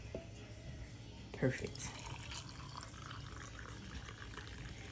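Hot water poured over sliced lemons and limes sitting in honey, a short liquid splash and trickle heard close, with a brief spoken word over a low room hum.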